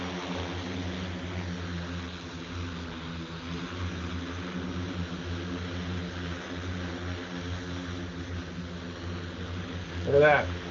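Electric advanced air mobility aircraft on a demonstration flight near Dayton in 2021, a steady droning hum of rotors or propellers holding at a constant level, with a brief louder burst near the end.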